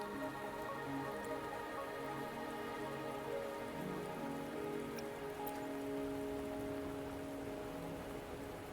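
Rain falls steadily in the Wuthering Waves game world, a soft, even hiss of drops on surfaces holding at a moderate, unbroken level for several seconds, with no voices.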